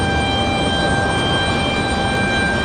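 Frontier Airlines flight 1168 from Atlanta at Raleigh-Durham airport makes a steady, loud roar with a constant engine whine, unbroken throughout.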